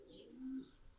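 A racing pigeon back from a 960 km marathon race gives a single soft, low coo, close and quiet against a faint background.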